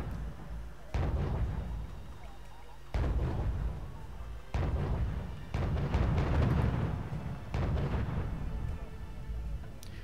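Tank cannons fire on targets in the strategy game Wargame: European Escalation, with about five heavy booms spaced a couple of seconds apart, each trailing into a rumbling decay.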